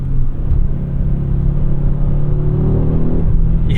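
A 2024 Audi RS3 all-wheel-drive sports sedan accelerating in RS torque rear mode, heard from inside the cabin as a loud, deep engine drone with a rising tone, steady and continuous, no talking.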